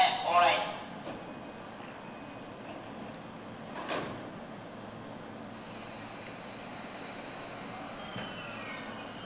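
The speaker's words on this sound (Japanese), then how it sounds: "1番線電車発車しております。" A JR E233-6000 series electric train on the Yokohama Line pulls away from Kikuna Station, a low rolling rumble with a thin high whine rising partway through, and faint voices in the background.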